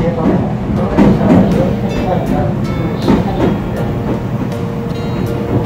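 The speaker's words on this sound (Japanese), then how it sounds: "列車は蟹川駅を出発したところです" A Meitetsu train departing Kanigawa station rumbles and clatters along the tracks, a steady loud roar with occasional sharper clanks, heard from inside a carriage.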